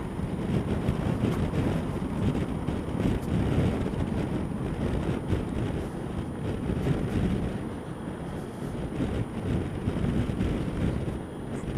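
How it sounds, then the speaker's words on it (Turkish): Cold northeast wind buffets the microphone on a morning motorcycle ride, a steady, loud broadband rumble that holds throughout with no voices. "Bugün sanırım bir poyraz var."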